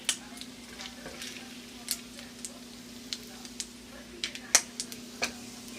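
Bacon frying in a pan while cabbage is being prepared, giving a soft steady sizzle broken by scattered sharp pops and crackles at moderate level, with a faint steady hum beneath.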